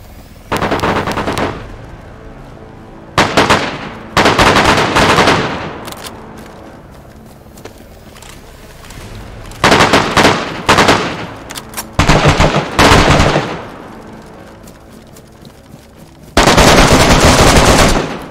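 Automatic gunfire bursts in the survival video game DayZ, several loud rapid volleys separated by pauses, with a final long sustained burst at the end.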